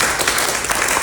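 Dense applause from an audience at a training session, a continuous even patter of many hands clapping at once, moderately loud, with little talk over it.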